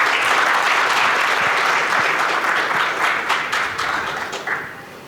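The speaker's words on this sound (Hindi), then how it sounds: "ताली खुल के बजा सकते हैं आप." Sustained audience applause at a literary festival session fills the room, loud and dense from the start, then gradually thins and fades toward the end.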